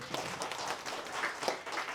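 Audience at an organic farming meet in Attapadi, Kerala, clapping: a steady, moderately loud patter of many hands beating continuously with no pause.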